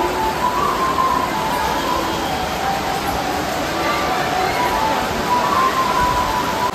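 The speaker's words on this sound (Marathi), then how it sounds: "इतका पाऊस आहे धुवाधार तर काही दिसतच नाही आहे" Heavy monsoon downpour during a hilltop temple visit at Jivdani Devi in Virar, amid thick fog: a steady, dense roar of pouring rain, loud and unbroken throughout.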